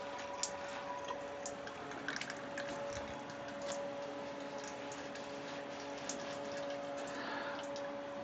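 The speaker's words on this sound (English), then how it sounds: "I like to get the water going slow" Water trickles slowly and steadily into home brewing equipment through a filter while brewing a smoked Rauchbier, with a constant low pump-like hum and faint ticking clicks underneath.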